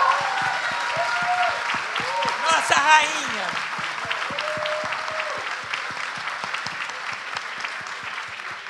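Audience applause at a panel discussion, steady rhythmic clapping running under voices, with an exclamation and excited talk over the claps early on before the clapping continues alone at a moderate level.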